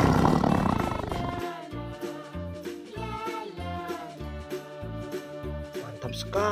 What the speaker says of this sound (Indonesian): Widih, ini harimau.